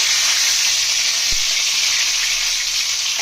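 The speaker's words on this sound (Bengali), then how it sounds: "আমরা আলুগুলোকে ঢাকা দিয়ে দিয়ে ভেজে নেবো।" Potatoes fry under a lid in a wok, giving a steady, close, loud sizzle that holds evenly throughout, with one soft knock partway in.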